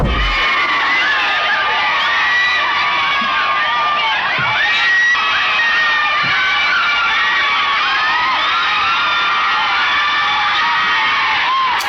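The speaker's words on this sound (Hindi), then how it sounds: "यकीन न हो तो ये चिल्लाने की आवाजें सुन लीजिए" A large crowd in London in 1931 awaiting Gandhi shouts and cheers continuously, with many overlapping high voices and whoops rising and falling throughout, loud and dense.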